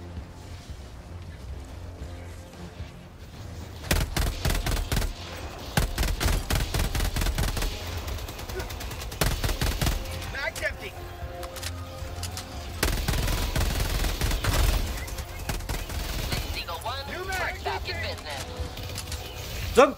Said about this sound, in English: Submachine gun's not bad.